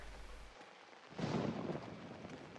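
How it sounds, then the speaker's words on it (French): Video game thunderclap from a lightning strike: a quiet rumble, then a single loud, rolling crack of thunder that fades into a rain-like wash, with no voices. "Oh, saleté d'éclair"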